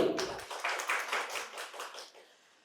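An audience at a quiz competition in a medical college hall applauds a prize winner, a dense burst of many hands clapping at once that fades away over a couple of seconds.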